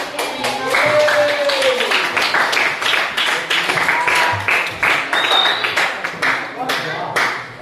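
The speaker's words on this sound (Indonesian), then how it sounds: "Kita tepuk tangan kita semua." A class of students claps together in a classroom, a burst of quick, irregular hand claps that carries on for several seconds at close range, with some voices mixed in.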